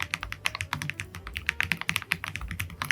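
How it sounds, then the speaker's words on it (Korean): Fast, steady typing on a mechanical keyboard, each keystroke a crisp, rounded, pebble-like clack in a close, continuous patter with no voices. "타이핑할 때 진짜 도각도각 조약돌 소리가 나거든요."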